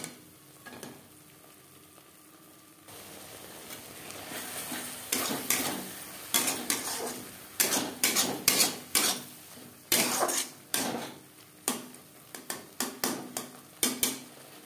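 Spice paste stirred into onions in a cooking pan for egg curry, with a steady sizzle under repeated rhythmic scrapes and clinks of the spoon against the pan, close and clear.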